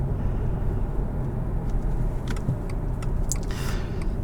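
Turbocharged 2021 Subaru Legacy XT Touring accelerating from inside the cabin, a steady droning engine and road roar with faint whistling spool rising near the end, no talking.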